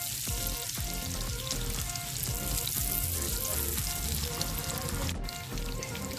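Butter sizzles and crackles steadily in a frying pan as peeled saba bananas are about to be cooked, a dense continuous frying hiss with faint clicks, loud and close throughout.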